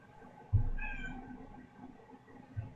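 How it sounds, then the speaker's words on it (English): A house cat gives a short meow, faint and a little distant indoors, with a soft thump as it starts and another near the end; no one speaks. "Ignore my cat meowing."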